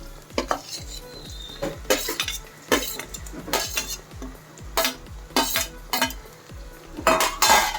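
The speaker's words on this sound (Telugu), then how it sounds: "ఇప్పుడు ఇలాగా సైడ్కి అనేసి మధ్యలో ఈ టమాటాలను వేసుకుందాం" Tomatoes stirred into a prawn curry in a pan, a metal spoon scraping and knocking against the pan in irregular bursts over a soft sizzle, close and fairly quiet, with no talking.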